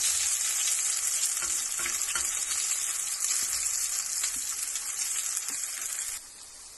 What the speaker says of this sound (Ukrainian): Смажимо картопляники на сковорідці.